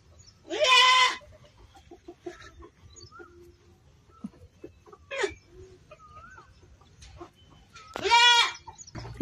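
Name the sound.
goats bleating on a village farm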